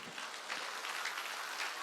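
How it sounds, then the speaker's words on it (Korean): Church congregation clapping at a Sunday worship service, a steady dense wash of applause that stays fairly faint and distant with no talk over it. "살아난 걸 믿으면 박수치라"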